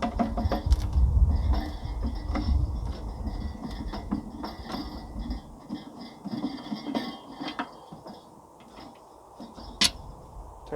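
A screw being driven while installing an outdoor light fixture gives off soft ratcheting clicks and creaks, with a low rumble early on. The sound is close but fairly quiet, and no one speaks.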